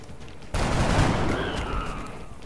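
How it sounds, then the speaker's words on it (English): Gunfire in XCOM: Enemy Unknown erupts after a quiet half second as a loud, sustained burst of rapid shots that rings out and slowly decays, with no voices. "You have a clear shot from that position. Shoot him. Fire."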